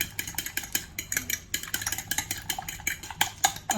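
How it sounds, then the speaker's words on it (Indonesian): An egg being beaten in a bowl for an omelette-style batter, heard as a fast, steady run of light clicking taps from the utensil against the bowl, close and continuous with no talking. "1 butir telur aja terus dikocok kepas."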